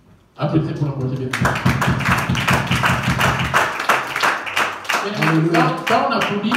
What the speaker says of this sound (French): Applaudissez pour l'encourager.